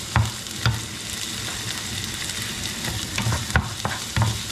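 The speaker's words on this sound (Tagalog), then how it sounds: "So, magigisa po tayo. Sibuyas." Onions sautéing in hot oil as the base for bangus tocho, a loud continuous sizzle broken by several sharp scrapes and knocks of a spatula against the pan, with no voices.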